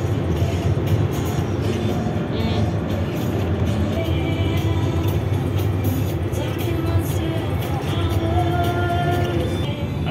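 A vehicle cruising along a German autobahn in fine weather, with steady loud road and wind roar and engine drone continuing unbroken throughout.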